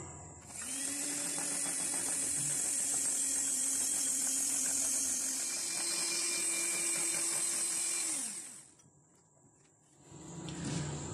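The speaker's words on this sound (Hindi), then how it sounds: "अब अंडे के साथ इसको मजीद बीट करेंगे।" Cake batter of butter, sugar and eggs being beaten for a date and dry fruit cake: a loud, steady motorized whine runs for about eight seconds, cuts off, then briefly starts again.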